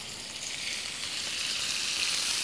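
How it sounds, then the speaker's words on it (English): Food sizzling steadily in hot olive oil, a continuous bright crackling hiss that holds at an even level throughout. "there's your sizzle. Listen to that sizzle"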